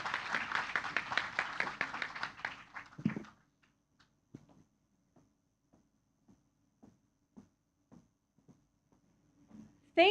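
An audience at a women-in-tech event gives warm applause welcoming Kate Repholz, a dense burst of clapping for about three seconds that stops abruptly, followed by sparse faint footsteps or taps in a quiet room.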